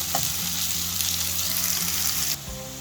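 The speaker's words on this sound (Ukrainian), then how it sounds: "Підсмажую трошки цибульку, ще додаю невеличкий шматочок вершкового масла." Red onion frying with a small knob of butter in a pan makes a strong, continuous close-up sizzle, with a low hum underneath that briefly shifts near the end.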